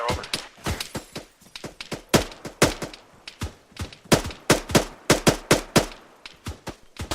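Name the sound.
suppressing gunfire during a military exercise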